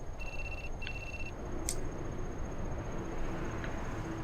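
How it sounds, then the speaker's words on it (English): A phone in the video game Shin Megami Tensei: Nocturne gives two short electronic ring tones, followed by a brief sharp click and a faint blip, over steady background noise. "Isn't that your phone ringing?"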